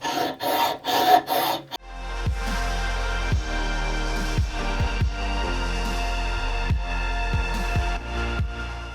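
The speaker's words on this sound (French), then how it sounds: "J'ai mis un coup de lime ou deux" Short rasping file strokes scrape over Durafix solder for the first couple of seconds, close and bright, followed by a low steady hum with repeated dull knocks.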